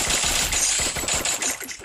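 Rapid automatic gunfire in the Free Fire video game, a dense, continuous rattle of shots heard over busy game noise throughout the brief burst.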